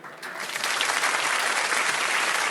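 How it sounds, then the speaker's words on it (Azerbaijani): A forum audience at a corporate HR event in a hall breaks into sustained applause, dense and loud clapping building quickly and holding steady. "Alqışlayırıq."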